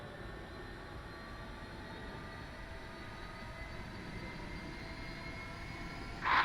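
A steady, droning Su-25T jet engine hum in DCS World during start-up, with a broad rumble, constant throughout, ending in a brief brighter burst.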